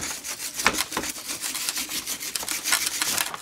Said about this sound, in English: So I'm just taking a wire brush and getting all this sand off.